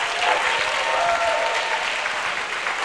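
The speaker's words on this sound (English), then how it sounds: "Please give her a round of applause." Sustained audience applause at a Miss Texas event, steady and dense throughout, with no talk over it.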